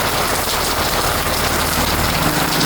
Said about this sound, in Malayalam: അത്യാവശ്യം മഴ ചെയ്തുകൊണ്ടിരിക്കുകയാണ്